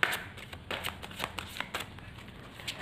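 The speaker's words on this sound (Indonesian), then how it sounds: "kita shuffle kartunya baru dipakai" Tarot cards being shuffled by hand, a quick run of crisp riffling flicks and soft slaps up close, with no talking.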